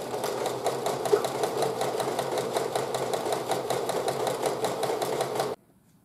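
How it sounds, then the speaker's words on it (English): A sewing machine stitches sleeves onto a dress made from thrifted fabric, running in a fast, steady mechanical patter for about five seconds before stopping abruptly. "Now let's take them to the sewing machine."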